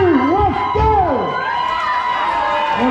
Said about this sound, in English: Give her a cheer, everybody.